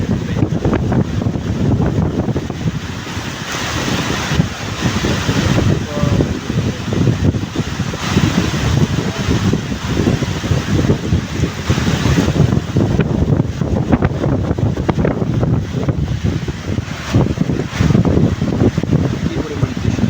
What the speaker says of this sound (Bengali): প্রচণ্ড বৃষ্টি আর বাতাস।